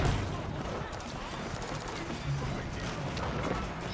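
Cannons fire in a real-time strategy battle, a dense, continuous barrage of booming shots and clatter layered over a busy game soundscape, steady and loud throughout with a few heavier thumps.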